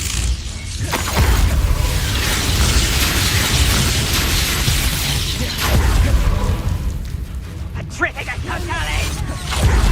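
Confringo blasting spell exploding during combat in the Hogwarts Legacy video game, booming bursts and whooshes among dense battle noise, loud and continuous with brief sharp peaks, and voices talking over the action.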